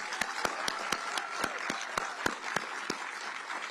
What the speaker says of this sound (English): a round of applause for them for that